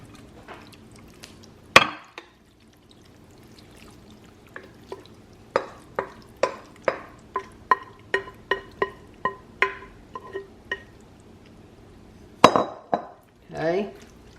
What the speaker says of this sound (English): So now I have my prepared casserole pan. I'm going to pour it in there.